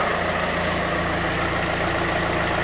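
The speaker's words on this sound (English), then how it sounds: "I'm going to leave the engine running a little while" A Citroën C5 engine idles steadily with a low, constant rumble and no change in pitch or revving.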